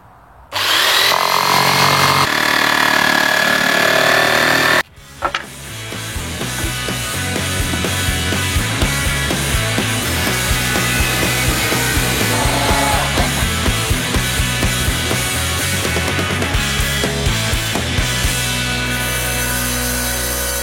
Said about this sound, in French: Raccourcis la dernière planche à la largeur requise.